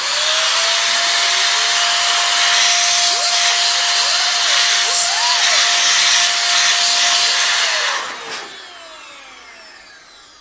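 A 500-watt electric air duster blows dust off a fan at low speed, giving a loud, steady whoosh with a constant motor whine for about eight seconds before it spins down and trails off.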